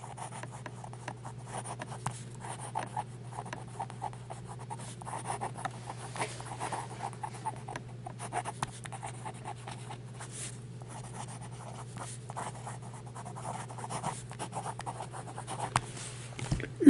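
Cross Century fountain pen nib moving quickly across paper, a continuous soft scratchy rubbing with brief rhythmic strokes, close up over a steady low hum, no talking.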